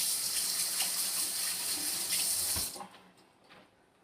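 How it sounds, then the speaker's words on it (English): Hands are washed under a running kitchen sink tap, a steady hissing stream of water that stops abruptly near the end, leaving faint drips and handling sounds. "I'm gonna go right over there, hippity hop, give my hands a little wash"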